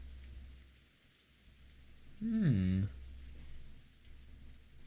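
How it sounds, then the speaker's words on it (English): Steady light rain falls in a scene from the Umineko visual novel, a soft continuous patter, with a short voiced sound cutting in briefly midway before the rain carries on alone. "In the still silence, where there was no sound except of the rain."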